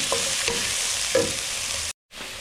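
Sliced onion and green chilies fry on low flame in a pan, giving a dense steady sizzle with a few light stirring taps before a sudden short cut to silence.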